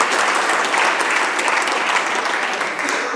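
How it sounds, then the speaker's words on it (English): Members of a legislative House applaud a wildfire documentary, a steady, dense round of clapping sustained for the whole stretch without pause. "So will the House please give a round of applause for this documentary?"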